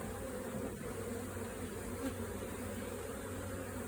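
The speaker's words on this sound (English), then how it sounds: "Bees are active and all over it." Honey bees swarm and buzz around an open beehive during an inspection, a dense, steady drone close by that stays even throughout with no voices.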